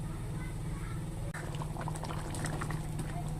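Mutton curry cooking under a lid in a pot, giving a steady low bubbling simmer with soft liquid pops that grow busier partway through, alone and fairly quiet.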